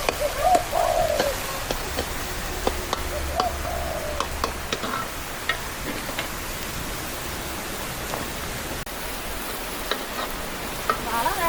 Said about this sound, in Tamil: நல்ல மழை